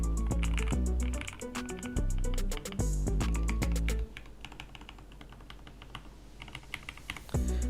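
Computer keyboard keys being tested in VIA software clack in quick bursts of loud, close typing for about four seconds, then give way to quieter scattered key presses and a final sharp tap.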